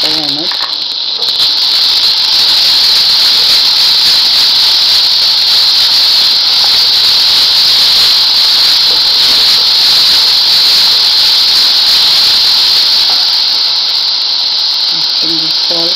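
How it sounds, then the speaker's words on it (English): Grated papaya dropped into a hot pan for papaya rice with ginger, giving a loud, steady, close sizzling hiss that holds evenly for the whole stretch, with brief voice sounds at the start and end. "Now goes the grated papaya in it."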